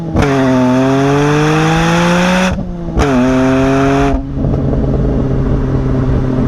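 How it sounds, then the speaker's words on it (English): A BMW E46 M3 engine revs hard through its exhaust with rising pitch, cuts off briefly, revs again, then settles into a steady rumbling drone, close and continuous. "pure E46 M3 exhaust note"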